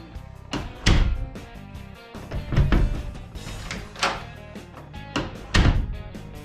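An interior door fitted with a newly installed doorknob is shut again and again, giving a series of close, solid thuds and latch clunks spaced about a second apart.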